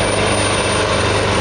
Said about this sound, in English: As you can hear that helicopter,